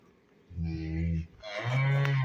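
Cattle on a farm where calves are being nursed low close and loud, with two long, harmonic bovine moos in succession, the second deeper and steadier.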